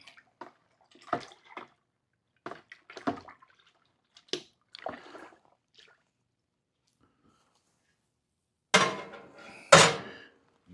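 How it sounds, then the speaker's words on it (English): Liquid is rinsed and stirred in a container while preparing a fermenting brew: scattered soft sloshes, drips and light clinks, ending in two louder splashy swirls close by. "Get it all stirred in."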